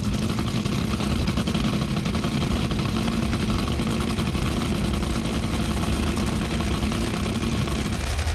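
A top fuel dragster engine suspected of having a broken cam runs at the US Nationals, a loud, continuous, rough rumbling roar with no pauses.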